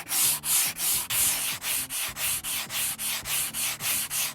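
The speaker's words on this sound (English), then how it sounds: "I'm sanding with the grain only here, and I'm actually rocking it as I go along like this so I can use a different area in the sandpaper" Sandpaper rubbed by hand along the grain of wood while stripping and preparing it for varnish, the strokes rocking back and forth in an even rhythm of about three per second, close and alone.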